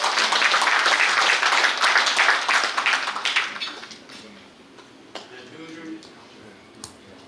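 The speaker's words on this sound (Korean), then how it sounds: "장관님께 다시 한번 뜨거운 박수 부탁드리겠습니다" A crowd at a 25th-anniversary ceremony gives a government minister warm applause: dense, loud clapping for about three and a half seconds that quickly fades, followed by a few scattered taps and faint room noise.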